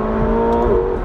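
A McLaren 720S with its 4-liter twin-turbo V8 pulls hard, a loud, smooth sustained engine drone rising slightly in pitch, continuous and close without any talking.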